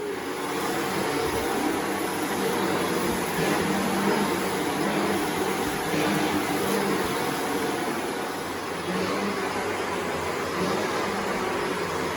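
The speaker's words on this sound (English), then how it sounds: "So I'm just going to quickly have a quick hoover around for her as well while I'm here." A vacuum cleaner hoovers around a room at home, giving a steady, loud broadband roar that runs unbroken and close by, with only slight swells as the machine moves.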